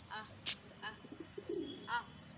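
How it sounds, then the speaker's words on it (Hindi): Domestic pigeons drinking water coo and chirp in short, soft bursts close by, with a low murmur of background noise. "सारे कबूतर पानी पी रहे हैं।"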